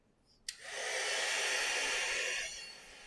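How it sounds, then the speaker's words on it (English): A heat tool melts embossing powder, starting with a sharp click and then a steady, close, loud blowing hiss that runs about two seconds before cutting out. "I'm just going to heat emboss it"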